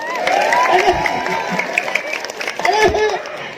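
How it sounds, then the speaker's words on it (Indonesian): An audience at a humorous Sundanese sermon claps and cheers together, a lively crowd sound mixed with a speaking voice throughout. "Tepuk tangan buat Gani."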